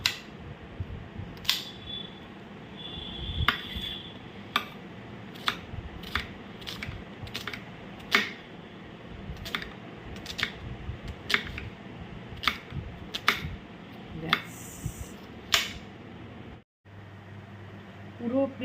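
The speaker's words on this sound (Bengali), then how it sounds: "পেঁয়াজটা কেটে নিই।" An onion is sliced by knife in a home kitchen, sharp crisp chops landing on a board at a fairly even rhythm, close and clear, then a brief pause near the end.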